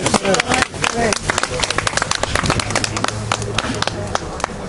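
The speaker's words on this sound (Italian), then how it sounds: "un applauso a te" Brief round of applause from a small group, dense overlapping hand claps under a voice speaking, fading out over a few seconds.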